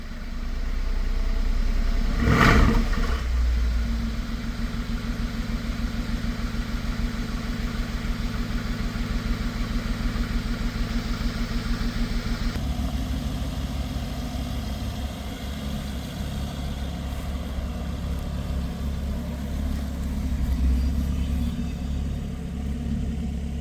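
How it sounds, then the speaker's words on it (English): A BMW engine with smoking exhaust idles steadily after a brief rev, a loud low rumble with a short surge near the start and a slight shift midway, with no talk. "Give it a little rev."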